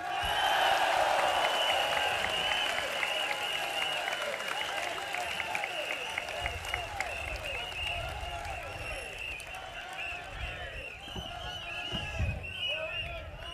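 A crowd at a 2015 Singapore general election rally applauds and cheers loudly, the clapping dense at first and then slowly thinning while a voice carries over it.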